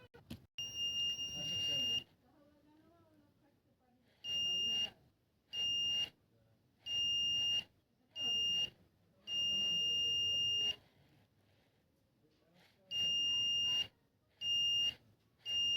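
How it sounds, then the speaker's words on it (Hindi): A buzzer on a homemade infrared sensor module built on zero PCB sounds a series of sharp electronic beeps in irregular bursts, loud and close, with a faint background voice in the gaps. "इस मॉड्यूल में मैं एक बजर कनेक्ट कर रहा हूं"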